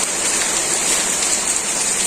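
Morning rain pours steadily in a Bangladeshi village, an even, close wash of hiss with no breaks and no voices.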